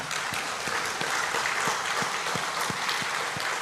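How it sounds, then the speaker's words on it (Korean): A church congregation at a Thanksgiving worship service applauds a newlywed couple, a full room of clapping running steadily with a regular low thump pulsing beneath it. "큰 박수 부탁드립니다"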